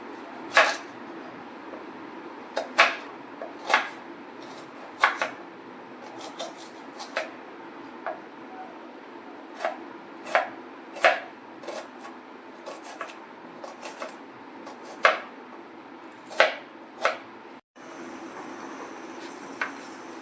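Knife chopping tomatoes and onions on a board for mutton curry, a slow, irregular series of sharp close taps over a quiet room hum.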